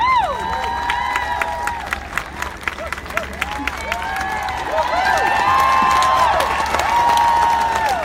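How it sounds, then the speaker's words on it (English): A crowd at a women's march in Charlotte cheers and whoops with high shouts and scattered clapping, loud and close, swelling again in the second half. "Thanks for the cheering, Kyle."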